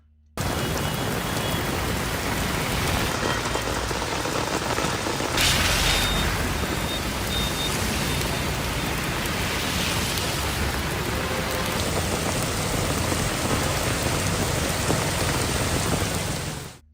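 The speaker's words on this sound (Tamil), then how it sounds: "நேற்றிரவு முதல் கனமழை வெளுத்து வாங்கியது" Heavy rain pours steadily in Puducherry, a dense, loud continuous roar of rainfall on surfaces lasting throughout, with no voices.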